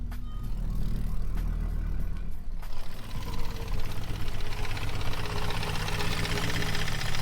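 An Audi Quattro engine idles steadily with a low, continuous rumble and a faint rhythmic clatter, with no voices.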